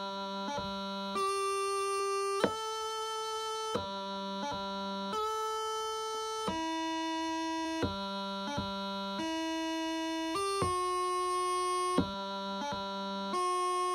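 Bagpipes play a top-hand grip exercise: a steady drone under a melody chanter stepping between sustained notes, broken by quick grace-note grips, clear and close with no speech.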